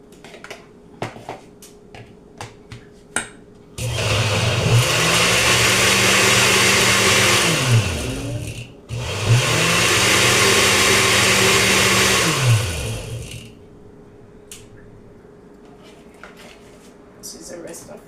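A blender whirs through fruit, celery, melon and frozen strawberry for a Jamaican-style natural juice: two long, loud motor runs with a pitch that rises then sags, split by a brief pause, with light clatter before and after.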